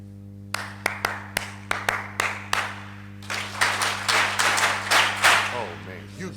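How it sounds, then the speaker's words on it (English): At a drum master class, one person claps out a short rhythm of sharp separate hand claps, then the audience claps it back as a fuller, denser burst of many hands, over a steady electrical hum. "if I clap out a rhythm, Si yo hago un ritmo con las palmas, I want you to clap back the rhythm."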